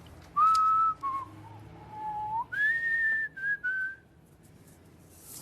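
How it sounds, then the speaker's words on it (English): A person whistles a tune alone, a clear melody with sliding, held notes in short phrases, fairly close and steady. "I mean, I love whistling."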